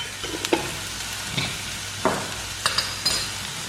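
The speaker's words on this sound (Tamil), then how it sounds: "இப்போ வந்து இதை நல்லா மிக்ஸ் பண்ணி விட்டுருங்க." Potato and spices, chilli powder, garam masala, cumin and chaat masala, stirred in a frying pan; soft scraping strokes come in several separate bursts over a faint sizzle, with no talk.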